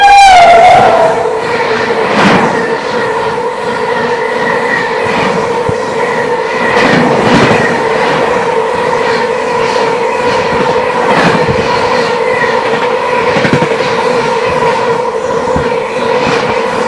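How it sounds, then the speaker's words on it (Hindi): A train rumbles past while crossing the Sangam Express, heard from on board: a loud, steady roar with rhythmic wheel clatter and periodic clunks continuing throughout. "ये देखिए, ये ट्रेन आ रही है जिसको अभी हमारी ट्रेन यहाँ पर क्रॉस करा रही है"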